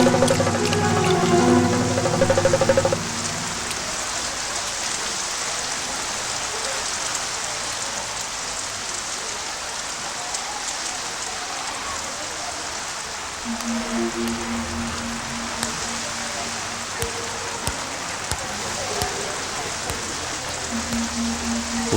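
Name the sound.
rain falling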